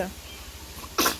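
A baby's single small, sharp sneeze bursts out at the very end, following a brief moment of quiet room noise.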